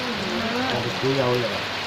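Rain falls on leaves in a forest village, a steady hiss beneath a person talking throughout.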